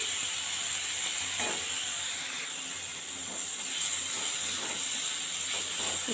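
Tomatoes and onions frying in a pan until soft, a steady close hiss and sizzle with faint scattered crackles and stirring, no talking.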